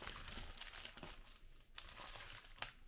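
Gift wrapping on a present being torn open, heard up close as a steady, soft crinkling and crumpling of paper with a few sharper rips.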